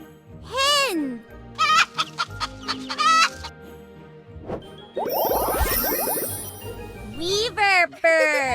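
A hen clucks in loud, close bursts among jingling sound effects and other bird calls, with a voice briefly audible.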